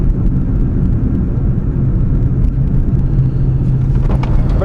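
A 1955 Chevy Bel Air accelerates hard from cruising speed, its engine a loud, dense, continuous low rumble heard from inside the car with steady road noise throughout.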